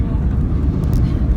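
Inside the cabin of a Mahan Air Airbus A310-304 rolling down the runway after touchdown at Tehran, a loud, steady low rumble of light braking fills the space, continuous and close.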